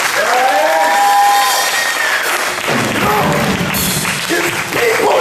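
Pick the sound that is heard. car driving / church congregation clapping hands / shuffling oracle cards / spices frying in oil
church congregation clapping hands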